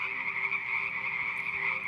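A frog croaks in a dense, continuous buzzing drone, steady and fairly loud throughout with no pauses and no voices.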